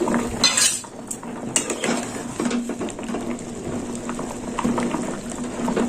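Potatoes for a red potato curry bubbling in a covered pot, a steady boiling burble close by with a light metallic clatter of lid and utensils on top.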